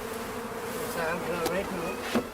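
Honeybees buzz steadily around a hive in West Cork in high summer, a close, continuous drone with a few louder passes as individual bees fly near.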